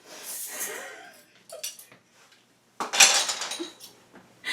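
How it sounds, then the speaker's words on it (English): A metal spoon clatters and clangs against pans in two bursts, with a quiet rustle and a brief scrape in between, close by. "there goes a spoon"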